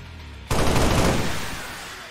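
A sudden loud burst of rapid gunfire in XCOM 2: War of the Chosen erupts and then fades into a decaying rumble, with no voices.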